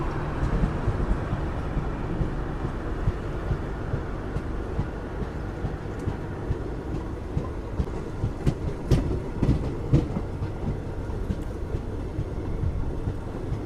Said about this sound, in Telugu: సో మన ట్రైన్ వచ్చేసి పాకలా జంక్షన్ నుంచి అయితే బయలుదేరిపోయింది.